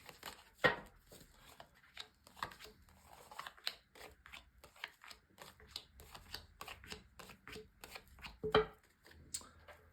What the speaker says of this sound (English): lay down 10 cards for you on the table